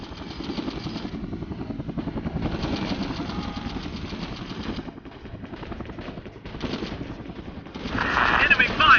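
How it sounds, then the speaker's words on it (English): Enemy gunfire in the Air Conflicts: Vietnam combat flight game, bursts of rapid fire over a steady helicopter and engine drone, growing louder and denser near the end. "Enemy fire!"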